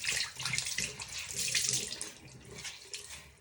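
Water runs from a tap in a home with no hot water, a steady splashing hiss that swells and eases over a few seconds, alone without talking.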